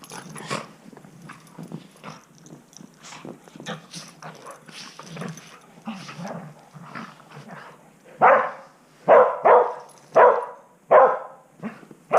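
Several dogs playing in the snow bark in a quick run of five or six loud, close barks near the end, after a stretch of quieter scattered yips and snuffling.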